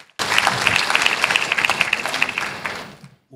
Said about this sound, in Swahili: naomba tujipongeze kwa makofi mengi sana